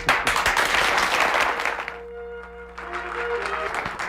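A studio audience at a 1993 televised town hall with President Bill Clinton bursts into dense, loud applause that dies away after about two seconds, leaving a steady hum before a fainter patch of clapping returns.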